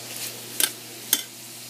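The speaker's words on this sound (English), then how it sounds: "my onion is going to go in with it. And I'm just going to stir that around a little bit and let it saute for a few minutes" Onion sautéing with sausage in a pan, a soft continuous sizzle under two sharp, separate scrapes of a utensil stirring the mixture.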